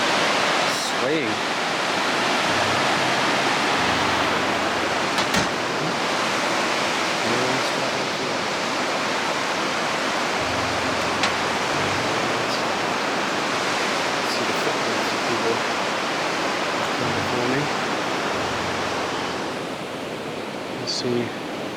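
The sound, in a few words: rushing river below a metal footbridge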